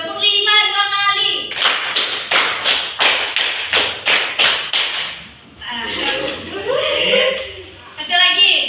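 Two runs of five claps ring out from a group of high school students in a classroom clapping game, ten sharp, even, unison beats in steady succession, with voices talking before and after.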